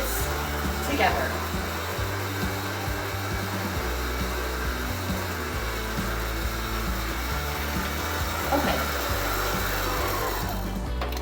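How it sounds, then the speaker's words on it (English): Electric mixer hums steadily at low speed as berry shortcake ingredients are lightly blended, with faint bowl scraping and rubbing over the continuous whir, close and without talk. "So what I'm going to do first is lightly mix this"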